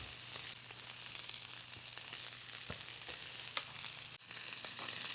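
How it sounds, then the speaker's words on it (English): Ranch steaks searing in a hot pan, a dense continuous sizzle close up with faint scrapes, growing sharply louder and brighter near the end, with no talk. "I'm going to let the other side sear just a little bit before I add butter"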